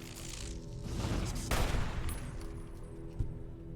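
Gunfire in Fallout New Vegas: a burst of rapid shots swells to a loud volley mid-clip, then fades, with one more sharp crack near the end.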